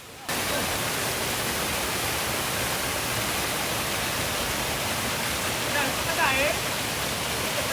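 A shallow waterfall pouring onto rocks makes a steady, dense roar of rushing water, loud and close. It stays constant throughout with no pauses.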